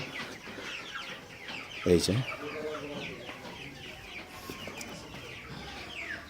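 Hens on a poultry farm shed in Gazipur cluck softly, with one sharper cluck standing out briefly amid a low hum while someone speaks a few words nearby.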